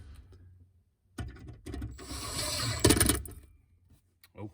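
A hand ratchet snugs up bolts on a Ford F150 multi-function switch, giving short bursts of close clicking and scraping separated by pauses, with no talking.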